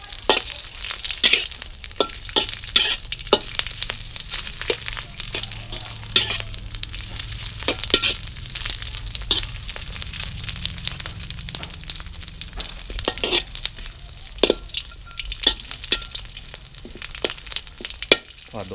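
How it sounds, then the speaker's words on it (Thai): Dried squid frying in a pan, a steady hiss of sizzling oil broken by frequent sharp crackles and pops, close and continuous with no voices. "ทอดอีกเยอะครับ"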